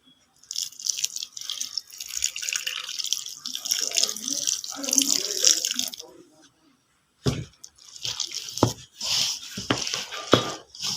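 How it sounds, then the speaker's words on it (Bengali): Water poured into flour for kneading naan puri dough, a close and steady splashing and trickling that stops briefly and then comes back in shorter bursts. "এবার এতে সামান্য পরিমাণে জল দিয়ে আমি একটা ড্রো তৈরি করব"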